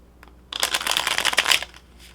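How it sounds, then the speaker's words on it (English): A deck of cards is riffled close by, a quick burst of crisp flapping and clicking lasting about a second, with quiet before and after. "just going to start to shuffle."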